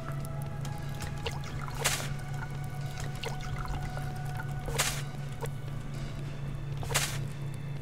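Water poured into a container in the survival game Subsistence, a soft steady trickle running throughout over a constant low hum, with three brief louder splashes.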